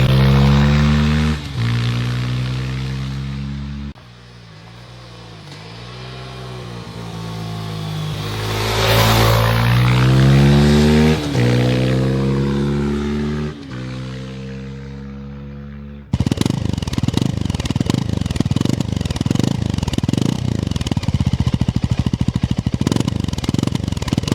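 A Rieju Aventura 307 single-cylinder motorcycle engine with an aluminum exhaust pipe runs close by, idling then revving up and down in swells, ending in a harsher, louder steady roar.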